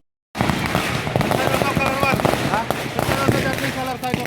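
New Year's fireworks and firecrackers burst in after a brief silence, a dense run of sharp crackles and pops that continues steadily from near and far.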